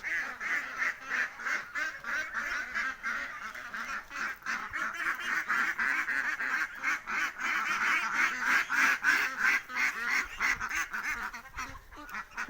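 A flock of farm ducks quacks close by in rapid, overlapping bursts, a busy rhythmic chorus of honking calls that never lets up.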